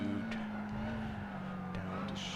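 Lotus Elise at Tsukuba in a racing game: a steady engine drone holds a constant pitch, with brief tyre or gear noises over it. It stays loud and continuous through the short stretch.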